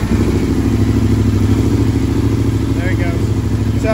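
The engine of a KTM 1390 Super Duke R EVO motorcycle runs steadily at idle, a loud close throbbing pulse throughout, while people talk over it.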